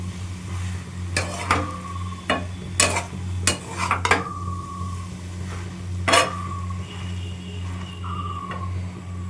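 Ash gourd and prawn curry ingredients stirred in a pan, with a spatula scraping and clinking at irregular intervals over a soft sizzle and a steady low hum in the background.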